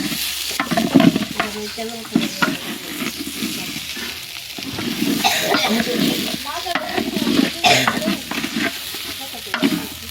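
Rice sizzles in a pan while a spoon scrapes and stirs it in repeated strokes, frying steadily throughout.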